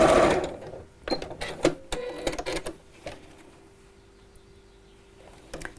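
A sewing machine stitches folded, creased lines across patchwork fabric for a pin cushion in short bursts of rapid needle clatter, loudest at the start and then fading to quiet near the end.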